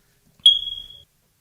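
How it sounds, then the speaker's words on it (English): A single loud, high-pitched electronic smoke alarm beep holds steady for about half a second, then stops; no other sounds around it. "We really need the smoke alarm?"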